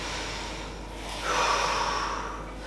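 A person exercising takes a single audible breath, a soft steady airflow that swells into a louder sharp inhale near the end, close to the listener.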